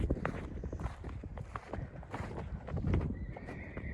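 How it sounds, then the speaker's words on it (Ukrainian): A mare whinnies amid hoof clatter and movement, the shrill call rising near the end over restless stamping at moderate distance. "Кобила ржала, тікає геть."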